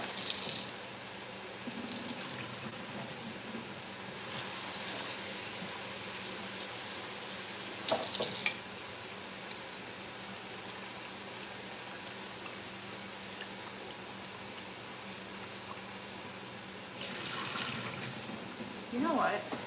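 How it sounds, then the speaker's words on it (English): Water runs into a kitchen sink while rice is rinsed, coming in a few short gushes between quieter stretches, fairly faint. "Rinse the rice."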